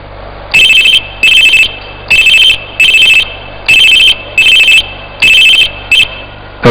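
A telephone ringing loudly and close, with repeated electronic ring bursts in a steady on-off rhythm, seven or eight rings in a row, no voices.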